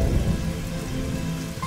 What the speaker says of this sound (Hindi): देखा कितना जोर से बारिश हो रहल बा